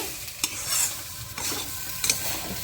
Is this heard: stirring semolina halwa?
yes